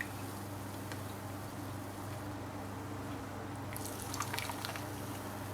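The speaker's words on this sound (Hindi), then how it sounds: "इसी के अंदर में जो हमने ये लिक्विड बनाया हुआ है ये डाल देते हैं, कस्टर्ड यानी कि हमारा" Liquid custard mixture poured into ramekins for caramel custard, a quiet steady trickle that turns into faint splashy drips and dribbles near the end.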